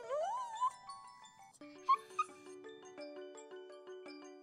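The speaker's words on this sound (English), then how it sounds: "The puppy is hungry for some dog treats." A hungry puppy whimpers in the video game Puppy Plus, with high, thin whines and a couple of short yips set against a soft, plinking musical backdrop.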